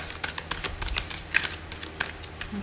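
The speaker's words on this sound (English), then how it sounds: "One more shuffle." Tarot cards are shuffled by hand in a quick run of soft, papery riffling taps, close and fairly quiet, with no speech.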